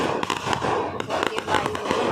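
Festival fireworks burst and crackle continuously in a dense, loud barrage with sharp pops layered over a rumbling background, and a faint crowd can be heard underneath.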